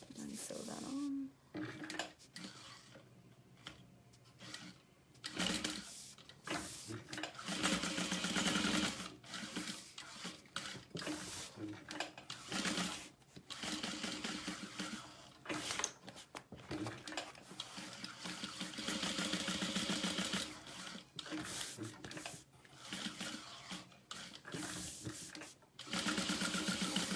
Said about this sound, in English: And then sew that on.